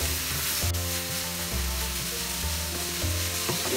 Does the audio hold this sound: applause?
no